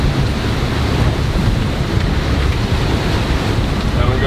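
Strong storm wind at 35 knots roaring over the sea around a boat, a loud, steady rush of gusts and surf buffeting the microphone without a break.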